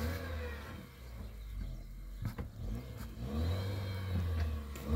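A car with its front wheel stuck in snow revs its engine in waves, rising and falling, then drones steadily and climbs again at the end, fairly close, with no one speaking.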